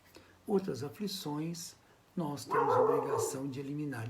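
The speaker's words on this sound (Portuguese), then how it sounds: "Desculpa o latido, é meu cachorro." A pet dog barks and yips briefly in the background of a Portuguese-language spiritual lecture, the sharp calls partly buried under a man's steady close speech that carries on throughout.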